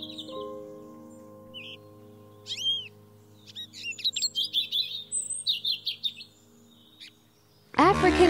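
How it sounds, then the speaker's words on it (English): European goldfinch song: quick bright twittering phrases and buzzy trills rise into a rapid, rhythmic run of chirps, close and clear over a faint low hum, ending with a sudden loud burst of noise. "European goldfinch."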